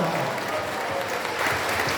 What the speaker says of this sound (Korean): 우리 차관에게 박수 한번 하겠습니다.